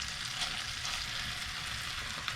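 Egg and bacon frying in a pan aboard a narrowboat, a steady, even sizzle of hot fat crackling at moderate level throughout with no voices.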